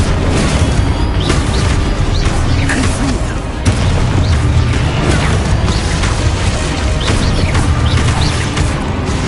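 Loud, dense barrage of booming blasts and crashes from a Confringo explosion spell in a Harry Potter video game, layered with continuous battle noise and effects throughout.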